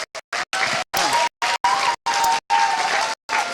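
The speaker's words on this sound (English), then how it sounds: "let's give a round of applause." Audience applause at a high school games development presentation, heard in choppy bursts cut by abrupt silent gaps, fairly loud and close, with no talking.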